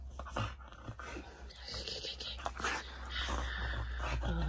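A husky pants quickly and whimpers close up, with a steady low hum running beneath the breathing.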